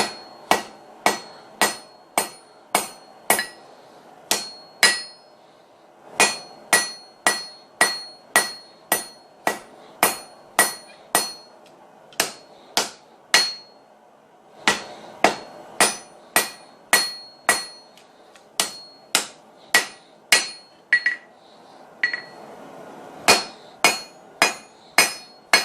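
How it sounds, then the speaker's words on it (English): Hammer striking hot steel on an anvil while forging a Bowie knife, sharp ringing blows in quick rhythmic bursts of about six to eight strikes, separated by short pauses. "So I'm going to take the round side of my hammer here."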